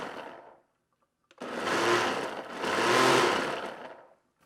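A blender pulses a homemade margarita mix in two long, loud motor bursts of whirring and churning, preceded by a shorter burst that cuts off, with a brief near-silent gap in between.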